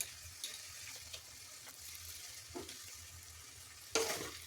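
Chicken stew with vegetables, vinegar, chilli sauce and tomato sauce stirred in a pan, a faint continuous sizzle with soft scraping strokes and one sharper clink near the end.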